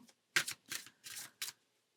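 Tarot cards being shuffled close up in four quick, soft riffling bursts with short pauses between, fairly quiet and alone.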